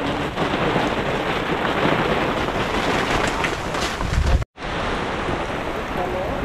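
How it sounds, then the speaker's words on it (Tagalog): The first rain of the season pours down on a farm, a loud, steady hiss of heavy rainfall that cuts out briefly for a moment before resuming just as strongly. "Hindi na ulan, unang ulan ng Mayo, unang ulan ng Marso eh."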